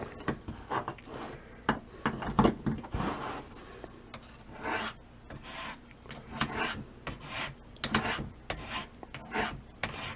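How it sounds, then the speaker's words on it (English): Knife sharpened on the white ceramic stones of a Triangle Sharpmaker: repeated raspy strokes of steel sliding down the rods, irregular in rhythm and close, with occasional light clicks and no talk. "Put these white stones in"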